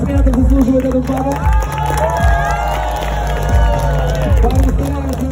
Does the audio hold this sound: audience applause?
yes